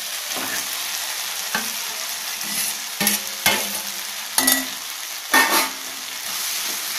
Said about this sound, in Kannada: ಈಗ ಬೆಂಡೆಕಾಯಿ ಹಾಕೊಳ್ಳೋಣ.